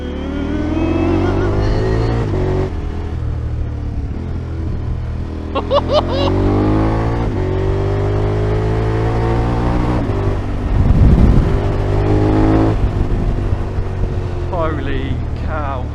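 A car passes close by during a motorcycle tour in France, its engine noise rising and falling as a loud pass-by over steady wind and riding noise, with people talking throughout.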